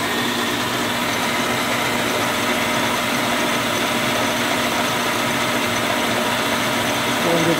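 Atlas-Craftsman 12 inch lathe driven by a treadmill motor, a steady even motor hum and mechanical whir running continuously and fairly close, with no breaks.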